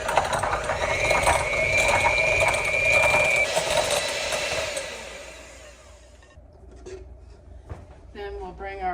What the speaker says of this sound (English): So we're just gonna whisk this together.